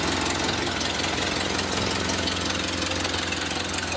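A Ford Model A flathead engine, revived after sitting since 1975, runs steadily at idle with a continuous, even low rumble and mechanical chatter throughout, close and fairly loud with no talk over it.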